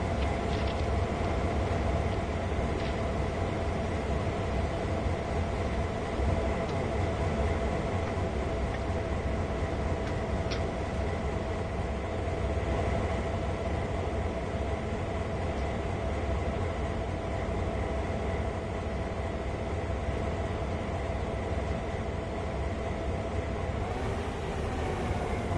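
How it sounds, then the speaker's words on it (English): A train rumbles past steadily in the video game Train Sim World, a continuous loud rolling drone with a sustained tonal hum that holds for the whole stretch before easing slightly at the end. "I was going to say there's a train coming."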